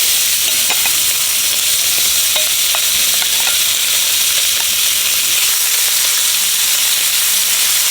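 Shrimp hit hot butter in a pan for chicken and shrimp fried rice. A loud, dense sizzle fills the whole stretch without pause, with faint crackles and spatters scattered through it.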